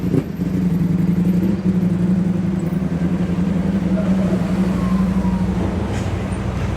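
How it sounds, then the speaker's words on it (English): A motorcycle passes by at moderate distance, its steady mid-pitched engine drone holding for several seconds before easing off slightly toward the end; no one talks. "Just gonna wait till the motorcycle passes."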